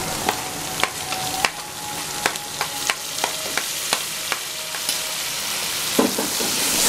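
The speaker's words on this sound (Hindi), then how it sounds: "अदरक लहसुन फ्राई हो चुका है, हरी मिर्चें पीसी हुई डालेंगे।" Ground green chillies frying with ginger and garlic, a loud continuous sizzle punctuated by regular sharp clicks and scrapes of a spoon stirring the pan.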